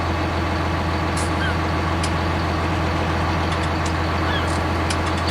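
A tractor pulling a cultivator across a field in Farming Simulator 19 drones with a loud, constant, low engine rumble and rhythmic throb, alone with no pauses.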